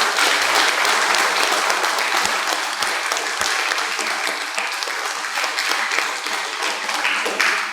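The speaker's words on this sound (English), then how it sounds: "I want you to give her a round of applause for her tireless efforts" Sustained audience applause for Dr. Babb at a summer reading clinic camp, dense and steady clapping from a full room continuing evenly for several seconds with no voices over it.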